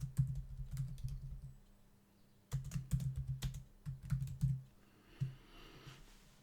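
Bursts of quick keyboard typing come in short runs separated by pauses, crisp taps over a low hum, close and fairly quiet.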